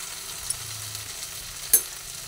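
Malabar spinach cooked with hilsa fish head, being stirred in a pan: a soft, steady sizzle with a couple of brief scraping clicks from the spoon, and no talking.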